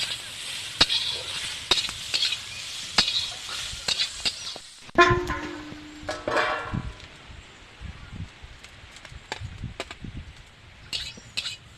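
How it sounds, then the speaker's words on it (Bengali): Beetroot slices frying in hot oil, a steady hissing sizzle for the first few seconds, followed by scattered clinks and scrapes of a utensil lifting the fried pieces out. "এবারে বিট ভাজা তুলছি"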